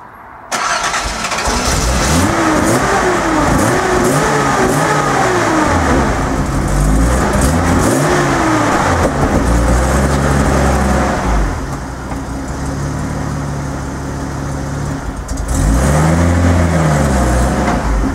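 A Datsun 280ZX fitted with Megasquirt engine management cranks and fires, then revs loudly and drives off, with the engine note rising and falling close by through the whole stretch.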